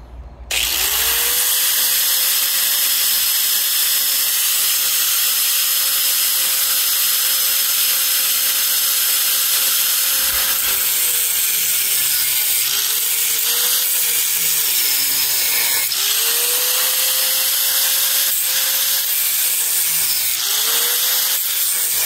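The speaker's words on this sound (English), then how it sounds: "so now I'm cutting the shredded rod with the angle grinder" An angle grinder cuts through threaded rod, its motor spinning up and whining steadily with a harsh broadband grinding hiss, briefly easing and rising again several times near the end; loud and close, no talking.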